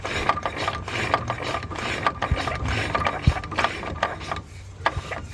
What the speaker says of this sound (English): The gearbox makes a bit of a noise though.